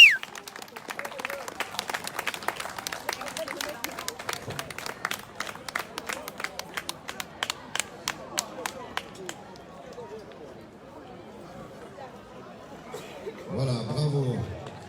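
An audience gives scattered, distinct claps for young champions at a junior prize ceremony in Sion, sparse and fairly faint, fading out, with voices talking and a brief burst of chatter at the end.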